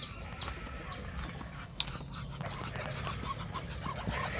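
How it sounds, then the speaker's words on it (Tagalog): Pet ducks at feeding time calling in short, repeated quacks over a rough, noisy outdoor background, with one brief sharp knock partway through. "Pakain tayo ng ating alagang bibi."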